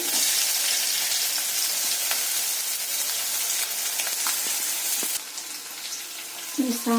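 Garlic sizzles and fries in a pan, a loud, steady, close hiss with faint stirring clicks, dropping slightly in level toward the end as a clatter comes in.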